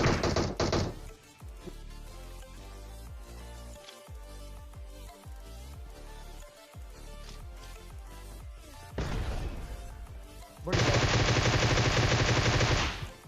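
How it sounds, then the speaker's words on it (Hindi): Gunfire in the Titan Strikes mode of a battle royale video game on the Rozhok map: rapid bursts and single shots with knocks and impacts over a dense game soundscape, with loud sustained bursts at the start and end. "अब हमारे ऊपर फायर होने लग जाते हैं"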